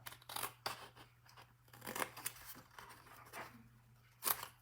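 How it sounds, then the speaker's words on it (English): Scissors snip through paper, cutting a triangle for a Christmas tree treat box ornament: a series of short, crisp snips in an uneven rhythm, close and fairly quiet, with a steady low hum underneath. "I'm going to cut down this side of the triangle"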